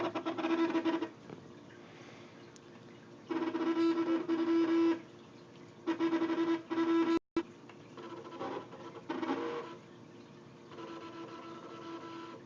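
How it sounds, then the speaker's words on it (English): A Cricut cutting machine, steered by a joystick, whirs in short mechanical bursts as its carriage moves, with quiet pauses between the runs. "as I move the joystick, the cricut moves"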